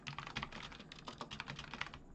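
Rapid typing on a computer keyboard, a quick irregular run of close, light key clicks with no pauses and no talking.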